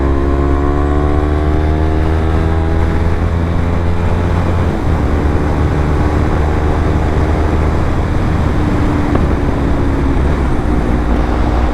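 A Yamaha R3 motorcycle engine drones loud and close while riding, with rising gear pitches and a steady roar through a pass, heavy wind noise and no voices.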